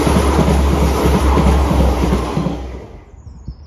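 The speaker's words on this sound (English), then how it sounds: "Here comes my train." A loud train rumbles and clatters nearby as it arrives at Langley Green station, Birmingham, then its roar gradually fades and quiets near the end.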